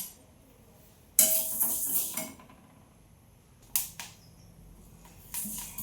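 Banana stem stir-fry being fried and stirred in a pan, heard as three loud bursts of scraping and sizzling clatter separated by quieter stretches.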